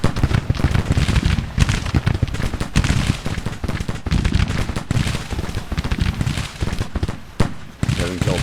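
Dense musket volleys and rattling gunfire from the Civil War strategy game Grand Tactician: The Civil War, loud continuous crackling bursts overlapping with no pause across the whole stretch.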